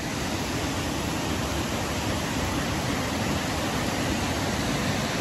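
Steady broadband roar of a waterfall on the Tallulah Gorge hiking trail, constant and loud with no breaks, filling the whole span without any voices.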